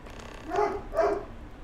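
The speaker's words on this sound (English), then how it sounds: "Dog is barking upstairs." Two muffled barks from a dog upstairs, evenly spaced and indoors, heard through a floor over a low background hum.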